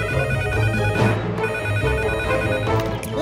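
A telephone ringtone sounds in a Boonie Bears animated cartoon, continuous and fairly loud over a busy music-like background, with no talking.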